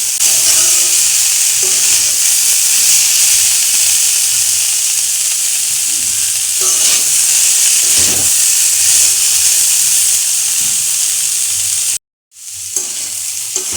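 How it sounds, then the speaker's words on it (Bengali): Cauliflower and green peas are stirred and fried in a pan, producing a loud, continuous close sizzle with periodic stirring scrapes, broken by a brief dropout near the end. "ফুলকপিটা এমনি নাড়তে থাকবো তাহলেই সিদ্ধ হয়ে যাবে"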